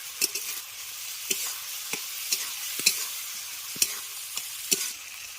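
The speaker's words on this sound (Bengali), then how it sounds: "মশলার সঙ্গে আলুটাকে আরও দু থেকে তিন মিনিট একটু আগে কষিয়ে নেবেন" Potatoes stir-fried with spices in a pan while cooking a crab and potato curry, a soft steady sizzle punctuated by about a dozen scraping spatula strokes at an uneven rhythm, close and fairly quiet.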